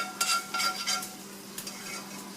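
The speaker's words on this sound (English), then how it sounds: "I'm going to go and mix the sauce throughout the vegetables" Coconut sauce being stirred through vegetables in a skillet, with repeated scraping and clinking strokes of a utensil over a soft, continuous sizzle, fairly close and alone.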